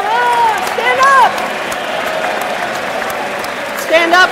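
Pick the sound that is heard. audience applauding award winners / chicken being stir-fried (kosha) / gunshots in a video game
audience applauding award winners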